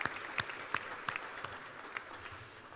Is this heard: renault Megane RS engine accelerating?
no